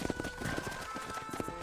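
Horse hooves clip-clop in a steady trotting rhythm in the video game Red Dead Redemption, under game music, close and moderately loud.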